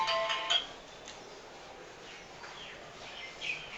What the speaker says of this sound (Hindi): सॉरी फोन आ गया था।